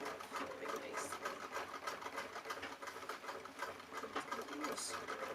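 A sewing machine runs steadily, stitching swirls into fabric with a continuous fast mechanical whir and chatter close by, with a voice faintly present underneath.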